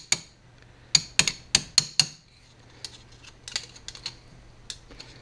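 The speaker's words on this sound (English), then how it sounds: "I put this against the punch, and then I got to try and hold the trim in place and hold the punch and hit the hammer all at the same time" A hammer striking a punch to seat trim and weather strip on a 1966 Ford Galaxie 500 convertible, a few sharp metallic clinks close together, then lighter scattered taps.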